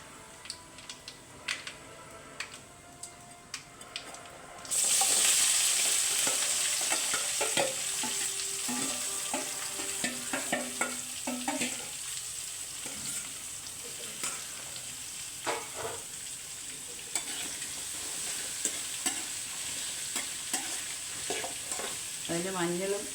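Onions sautéing in a pan of hot oil with chilies for a quick Kerala-style chicken curry, a steady loud sizzle starting abruptly after a quiet start, with scattered spoon scrapes and stirring clinks throughout.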